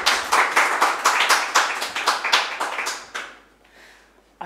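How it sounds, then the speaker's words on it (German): Applause from an audience welcoming two speakers onto a stage at an evening talk, a dense run of clapping that thins and fades after about three seconds, ending with a single stray clap. "Bühne frei und Applaus"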